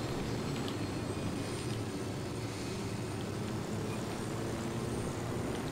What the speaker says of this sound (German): Ich versuche euch mal mit dem Heli holen zu kommen